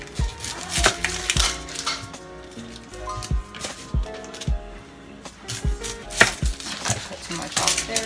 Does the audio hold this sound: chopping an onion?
yes